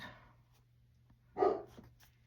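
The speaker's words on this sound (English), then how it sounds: "And then have Snoop bark at us for no apparent reason whatsoever." A dog gives a single bark indoors, a short mid-distance burst after a quiet stretch with faint room noise before and after.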